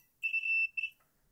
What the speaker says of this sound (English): The battery switch is in the on position now, and now it should beep.